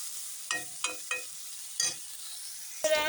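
Peas, carrots, onion and garlic fry for chowmein, heard as quiet bursts of sizzle and stirring. Four short scrapes come close together, then one more, and a louder hiss closes the clip. Nobody speaks.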